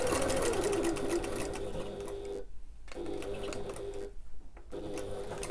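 Sewing machine basting fabric for a backpack, running in steady rapid stitching bursts with two short pauses, close and clear.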